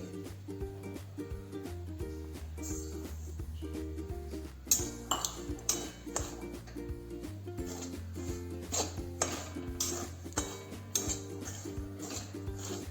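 Semolina is dry-roasted in a hot wok and stirred without pause, the spatula scraping and clinking against the metal in irregular bursts over a steady musical background.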